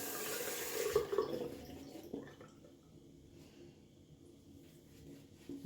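Water gushes from a tap briefly at the start, then cuts off, leaving quiet drips and faint handling sounds.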